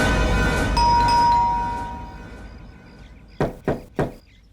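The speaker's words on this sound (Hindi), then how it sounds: "रजत, दरवाजा खोलिए।" Three quick, sharp knocks on a door come close and loud near the end, following a fading ringing resonant tone at the start.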